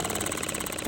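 A small engine runs steadily at a fast idle, a continuous even buzz with a rapid regular pulse, close and moderately quiet, with no voices.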